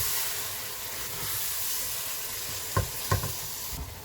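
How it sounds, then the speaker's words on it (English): Butter chicken curry with fresh coriander and cooked green chilies sizzles steadily in a pan, a soft continuous hiss broken by a couple of brief stirring knocks near the end. "I'm going to add some cooked fresh green chilies and give it a stir."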